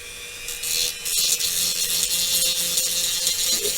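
A Dremel rotary tool works on an MPC X-Wing Fighter model kit's engine intakes, with a steady high whine and rasping grinding that runs close and unbroken for several seconds.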